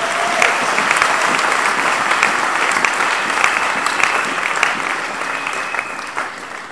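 Congregation applauding and cheering during a French-language church sermon, a dense, steady roar of clapping that stays loud for the whole stretch, with scattered shouts rising above it.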